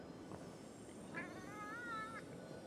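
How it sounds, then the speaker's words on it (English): A cat in the video game Ghostwire Tokyo lets out one drawn-out, wavering meow, moderately loud over a low hum of game ambience. "Oh, another cat."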